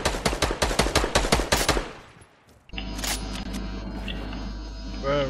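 Gunshots in a Fortnite match, a rapid string of loud sharp cracks fading out, followed by a steady hum and a couple of further reports.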